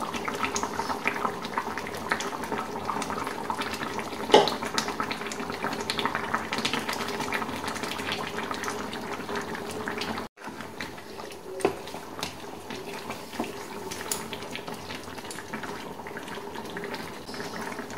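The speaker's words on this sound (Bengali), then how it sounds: "ঝোল ফুটে এসেছে।" Prawn and potato curry gravy boiling in a pot, a steady close bubbling and gurgling that runs throughout with a brief gap midway.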